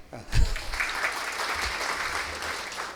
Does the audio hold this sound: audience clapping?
yes